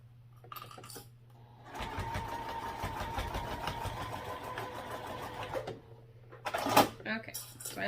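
A sewing machine runs steadily for several seconds, stitching a quarter-inch seam on a fabric sling, a close mechanical whir framed by brief handling clatter before and after.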